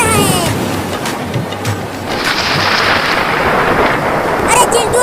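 Heavy rain pours steadily while low thunder rumbles through, with a brief voice near the start and louder crackling bursts toward the end.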